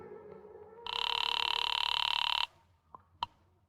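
A telephone ringing through a phone booth receiver after dialing, one long buzzy ring burst heard close and alone, followed by a couple of faint clicks.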